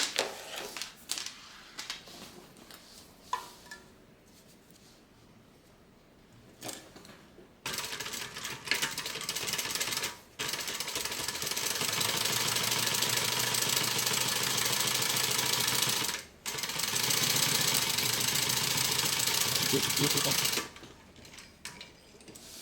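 A sewing machine stitches a tote bag pocket closed: after some quiet handling, a steady mechanical whirr runs in long bursts with a few brief stops, close and fairly loud.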